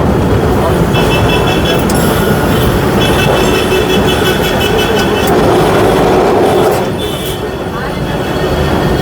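A Kolkata tram running along its route, giving a steady, loud rolling rumble with thin metallic ringing tones on top, easing slightly near the end, with faint voices in the background.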